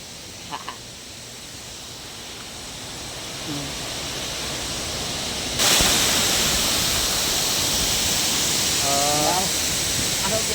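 A waterfall roars as a broad, steady rush of falling water, getting louder partway through as if approached more closely, with brief voices talking faintly over it.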